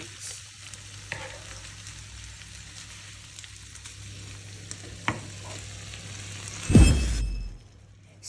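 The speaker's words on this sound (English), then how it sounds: "So while that is simmering together" Enchilada filling ingredients simmer and sizzle steadily in a pan, a soft continuous frying hiss with a few clinks of stirring and a louder splash-like burst near the end.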